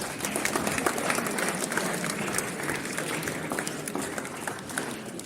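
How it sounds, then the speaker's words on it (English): A school audience applauding a student, a dense burst of clapping from a crowd that stays steady for several seconds and then tapers slightly. "Another round of applause for Advait."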